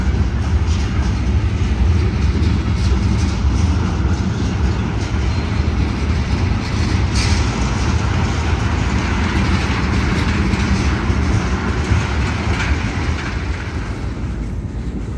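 Union Pacific freight train carrying new Greenbrier-built woodchip cars rolling through a rail yard in Eugene, a continuous loud low rumble with faint wheel clatter and no break.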